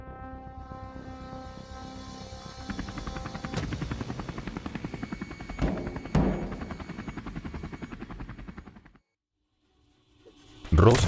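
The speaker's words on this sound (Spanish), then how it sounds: "justo en ese momento llega el helicóptero de Kree y Cody que salvan a Ross" Helicopter in a Madness Combat animation: a loud, steady rotor whir with rapid pulsing chop and sharp bursts layered over it. It cuts to silence partway through, then roars back in.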